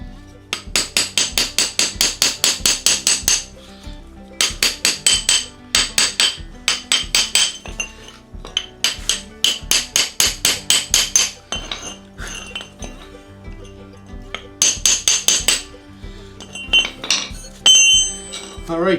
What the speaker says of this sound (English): so I'm going to try and chip that away a little bit.